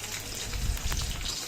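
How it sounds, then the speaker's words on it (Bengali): Chopped onions frying in mustard oil in a wok give a short, fairly quiet patter of crackling sizzle, like light rain, with nobody speaking. "পেঁয়াজ কুচি দিয়ে দিলাম, সরিষার তেল দিয়ে কড়াইতে।"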